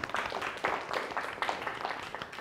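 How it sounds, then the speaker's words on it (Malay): Classroom applause for a student group after their presentation in a secondary-school biology lesson, a short burst of steady clapping from a small group, fairly close, with no talk over it. "Satu tepukan kepada kumpulan."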